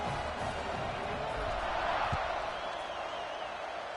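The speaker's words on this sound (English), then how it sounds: "this crowd is buzzing after that last score" A steady, dense stadium crowd roar fills the scene in the College Football 26 video game, a continuous broadband buzz with no distinct cheers or claps rising out of it.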